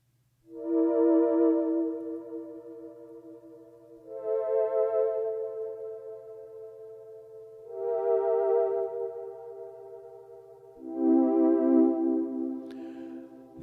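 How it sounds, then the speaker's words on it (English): A synthesizer choral voice patch sings four soft, sustained, slightly wavering notes, each swelling in and fading, with short gaps between them over a faint steady low hum. "the choral voice sound that you occasionally hear in the music coming from this top line here"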